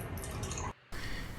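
Milk pours from a plastic bag into a jug in a steady liquid stream, cut by a brief pause before the flow resumes, close by and fairly quiet.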